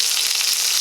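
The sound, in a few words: chuck roast browning and sizzling in a pan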